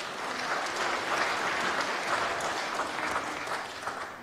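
An audience at the Prime Minister's Pacific Youth Awards applauds an award winner, a steady, fairly soft wash of many hands clapping at a distance, sustained evenly throughout.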